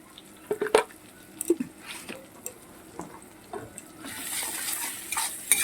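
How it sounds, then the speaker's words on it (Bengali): A spice paste with turmeric and chilli is stirred and fried in a pan for pumpkin kofta curry, giving irregular scraping and clinking strokes over a soft sizzle that grows louder toward the end. "ভালো করে ভাজতে হবে মশলাটাকে"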